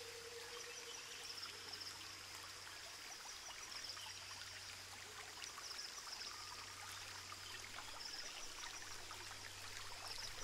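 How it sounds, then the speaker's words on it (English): A jungle stream flows steadily, a soft continuous broadband wash of running water with faint trickling detail, alone and even throughout, joined by a low steady hum. "there's a stream nearby"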